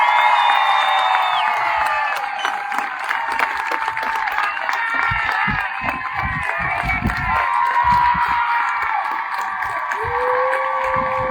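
A crowd at a Vineland parade gathering honoring Isiah Pacheco claps and cheers steadily, with whoops and children's shouts rising over dense applause throughout.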